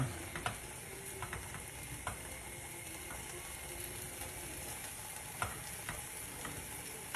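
Pancake batter cooking in a pan for breakfast, giving a faint, steady hiss with a few soft clicks and taps scattered through it.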